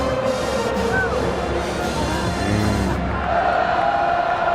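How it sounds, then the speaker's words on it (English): A stadium crowd at Doak Campbell roars during a Florida State football game against NC State, making a sustained, loud wall of cheering with no breaks. "this crowd here at Doak Campbell is into it"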